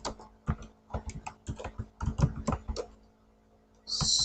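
Typing on a computer keyboard while entering text in the mBlock programming environment, a run of close, crisp key clicks in irregular bursts, then a brief pause and a steady hiss at the end.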